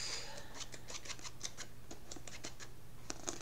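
Scissors snip through patterned craft paper in a quick series of short, crisp cuts, close and fairly quiet over a steady low hum, with no talking.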